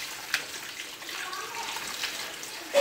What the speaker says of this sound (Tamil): இப்படி செஞ்சு தண்ணியை ஊற்றி ஊற்றி கழுவணும்